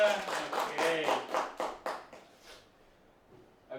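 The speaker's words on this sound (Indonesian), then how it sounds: "Oke, tepuk tangan semuanya." A small tour group on an expedition to Mount Patuha near Ciwidey claps together outdoors in a quick burst of sharp, rhythmic claps that thin out and fade within about three seconds.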